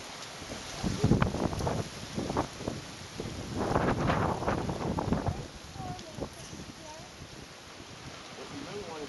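Blustery wind gusts buffet the microphone outdoors during a bike ride, swelling into louder rushing bursts and easing off, with brief scuffs and faint background activity.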